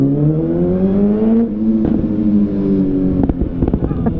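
Motocross bikes at an MXGP race roar past over a bridge, several loud two-stroke engines revving with shifting pitch, followed by sharp knocks and rattles as they cross, no talking.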